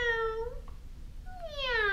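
A voice imitates a cat, giving two drawn-out meows with a short pause between them, close and clear at a library storytime.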